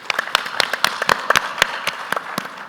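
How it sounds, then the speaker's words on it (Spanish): Audience applause at a panel discussion on resilient infrastructure, a burst of scattered hand claps with sharp irregular peaks, fairly close and steady for a few seconds. "Un aplauso para Pablo, por favor"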